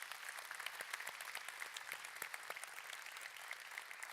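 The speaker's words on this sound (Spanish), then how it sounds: "quiero que nosotros le demos un aplauso a sus esposas, a Liliana y a Lina" A congregation in a church claps in steady, dense applause throughout, fairly faint and distant with no voices standing out.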